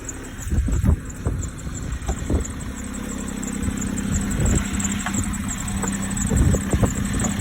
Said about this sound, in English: the belt's kind of squeaky in this one